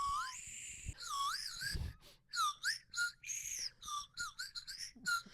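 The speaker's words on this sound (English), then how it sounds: "Like a slide whistle." A novelty slide whistle, bought as a candy toy, plays a series of sliding up-and-down whistled notes, first a few longer swoops, then quick repeated chirpy bursts, fairly close and otherwise quiet.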